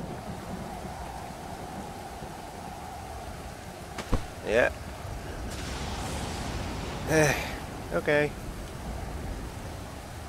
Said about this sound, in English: I'll be back after the storm.